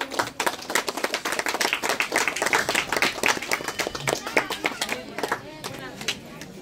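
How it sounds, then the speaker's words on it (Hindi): Audience clapping and applause at an honour ceremony held at a Shani Dev temple in Sonpur, dense and steady throughout, then thinning toward the end, with a voice speaking over it. "जोरदार कलताली देगी हम स्वागत करबा"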